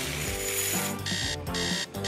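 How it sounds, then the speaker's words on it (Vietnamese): A loud alarm clock rings up close in repeated electronic buzzing bursts with short gaps between them, sounding alone. "Tắt báo thức."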